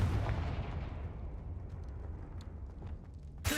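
A blasting spell smashes a statue in Hogwarts Legacy, a deep booming blast that rumbles and decays slowly over several seconds, followed by a sharp new burst at the very end.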